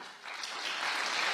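An audience claps together at a spiritual talk, a steady, dense wash of applause that swells slightly and holds at moderate loudness with no voices on top.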